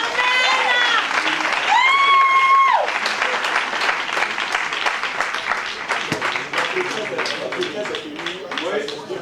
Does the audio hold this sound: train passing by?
no